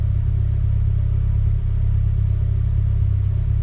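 Ford Duratec engine fitted in a Ford Sierra, idling steadily with a deep, continuous low rumble and a faint mechanical hum, held at near-constant revs throughout.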